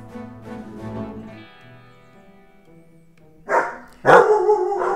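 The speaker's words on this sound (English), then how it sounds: "Whoa, my dogs are barking." Dogs barking indoors in the background of a Plants vs. Zombies 3 gameplay session: faint harmonic yips early on, then two loud, close bursts of barking near the end, with no talk over them.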